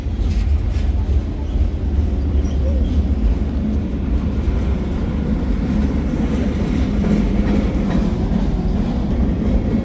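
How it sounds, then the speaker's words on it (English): A loud BNSF mixed freight train climbs a hill at full power, rumbling past close by over a pedestrian trail, a continuous heavy roar with faint clickety-clack of wheels over the rails. "This one doesn't have stacker cars. No. It's a mixed train."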